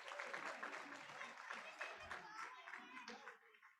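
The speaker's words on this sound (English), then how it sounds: "Let's give everybody a nice round of applause." An audience at a wine pull event applauds, with a dense, fairly quiet patter of clapping and crowd murmur that runs for a few seconds before tapering off.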